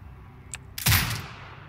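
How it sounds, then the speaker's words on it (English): A turret fires in the video game Sniper Ghost Warrior Contracts 2, a single sharp blast with a short rumbling tail, preceded by a faint electronic beep. "Exit binocular mode and command the turret to fire."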